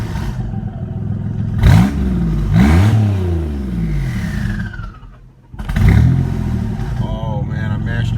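A twin-turbo Camaro engine revs hard during a cold warm-up, running lean and nearly stalling. Loud, close rising and falling revs come in bursts, then a brief dip and another surge.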